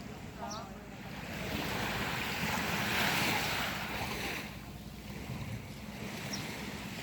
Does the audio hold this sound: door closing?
no